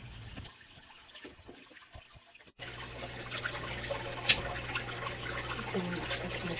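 Water runs steadily through a fine gold sluice fed from a deep well, a continuous rushing wash that grows louder partway through, with no voices over it.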